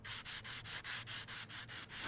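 Repeated sandpaper strokes from a train station renovation video game, a steady back-and-forth rasp of about nine even passes in quick rhythm, close and moderately loud with no talk over it.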